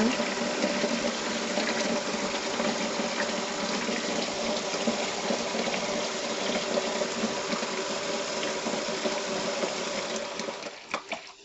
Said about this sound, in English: So I'm going to pour water in here.